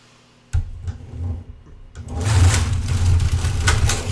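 A Singer knitting machine works rows of 2x2 industrial rib: a sharp start, then a few clacks, then a loud steady whirring slide of the carriage with rhythmic clatter, close and alone.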